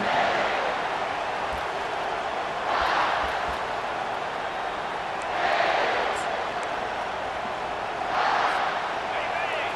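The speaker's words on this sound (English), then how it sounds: "listen to the roar of this crowd" Stadium crowd roar from an NCAA college football video game, Michigan State at South Carolina, a steady dense wash of cheering that swells in several louder surges over about ten seconds.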